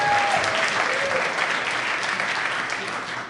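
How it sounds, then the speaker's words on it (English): Audience applause at a comedy show, steady and dense from start to finish, fading slightly near the end, with a few voices mixed into the crowd. "so could we just get a quick round of applause for that?"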